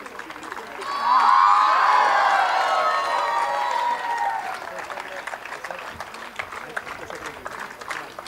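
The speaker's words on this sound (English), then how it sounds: "Getting the loudest cheer." A crowd at a school football programme inauguration on a university campus cheers and whoops loudly, then settles into sustained clapping that fades gradually, with an announcer's voice over the applause.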